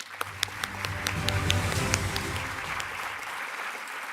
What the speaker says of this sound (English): Give all the teachers who presented another round of applause